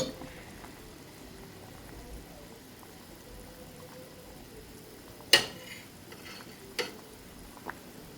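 Fish tinola broth with tomato, onion, lemongrass and salt simmering in a pot, a faint steady bubbling hiss with a few sharp clinks of utensils against the pot.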